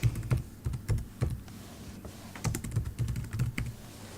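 Computer keyboard typing a business description, with quick irregular clusters of close, crisp keystrokes and brief pauses between bursts.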